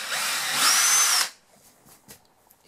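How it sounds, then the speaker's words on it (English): A power drill boring a hole in a caravan wall with a small bit, one loud, close, high whine lasting just over a second, then stopping, followed by faint taps and handling noises. "I hope I'm using the smallest drill bit that I've got, and I hope this will actually fit."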